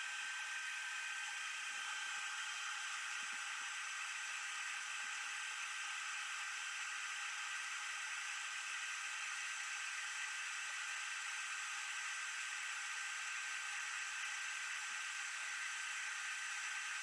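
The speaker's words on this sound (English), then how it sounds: "Pardon the hair dryer sounding tool." A heat embossing tool blows a steady, airy hiss like a hair dryer, running continuously at an even level with no talking.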